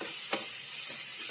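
Onions sautéing with salt in a pan give off a steady, faint sizzle, with a few brief louder stirring scrapes and nobody speaking.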